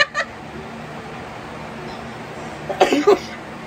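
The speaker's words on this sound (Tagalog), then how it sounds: "inuubo ako sa kanila" A person coughs a few quick, throaty times near the end amid a quiet room hum, after a brief vocal sound at the start.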